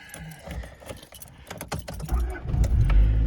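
A 1991 Honda CR-X Si being started: keys jangle near the ignition, then the engine cranks and catches, its low rumble swelling loudly in the final second.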